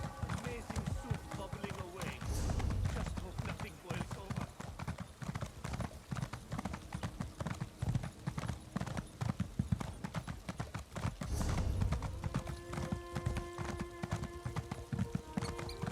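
Horse hooves clip-clopping in a steady, quick rhythm while riding in the Elder Scrolls Online video game, a continuous clear trot kept up the whole time over soft background sound.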